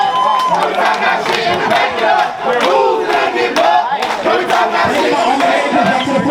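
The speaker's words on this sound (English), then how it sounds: "Give her a round of applause." A dense, loud crowd at a ball cheering, whooping and shouting continuously, with clapping mixed in throughout.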